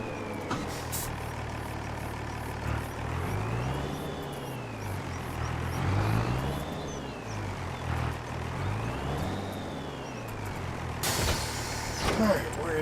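A tractor in the Farming Simulator 25 video game drives along with a steady engine drone that rises and falls in pitch as it speeds up and slows, while a voice talks over it.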